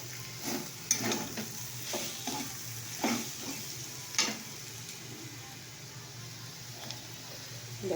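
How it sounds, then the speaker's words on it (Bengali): Potato fry cooking in a pan gives a steady soft sizzle with several scraping stirs and light clinks of a utensil against the pan, close and moderate in loudness, with no talking. "দেখো আলু ভাজাটা হয়ে যাচ্ছে"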